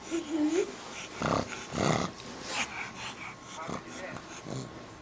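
A dog lies on its side while someone rubs its belly, giving short bursts of panting and low growly breaths, close and moderately loud, with people talking softly nearby.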